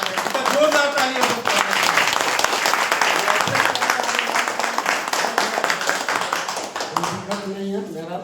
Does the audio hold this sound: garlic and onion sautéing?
no